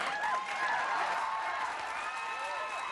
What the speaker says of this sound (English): I don't think they're applauding for the storm.